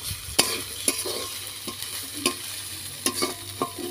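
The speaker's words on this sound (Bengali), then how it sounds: "এটাকে আমি সয়াবিন তেলে ভালো করে ভেজে নেব" Chilies, green chilies, chopped onion, chopped garlic and bay leaf sizzle in soybean oil in a kadai, a steady crackling fry broken by several sharp scraping stirs of a spatula, close and alone.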